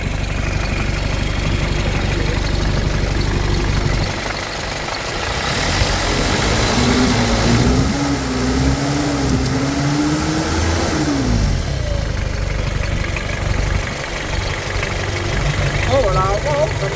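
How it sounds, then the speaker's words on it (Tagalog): A 4D56 diesel engine with a starting problem runs steadily in a workshop, a continuous loud low drone with some rising revs in the middle, while people talk over it. "Ganda ba ng makina nito? Malakas pa nito."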